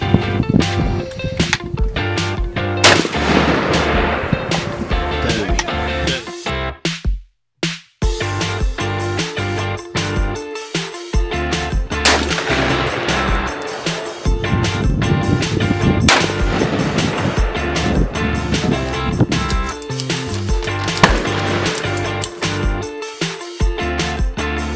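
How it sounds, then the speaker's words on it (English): Loud shotgun blasts fired through Jebs Headhunter choke tubes with Spectra shot, repeating through a dense, continuous stretch of gunfire with heavy low booms, sometimes under music, and a brief drop to near silence. "We just got through shooting these Jebs Headhunter choke tubes"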